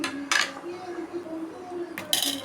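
Egg masala gently stirred in a pan, a spoon clinking and scraping against the metal in two short bursts over a quiet simmering background.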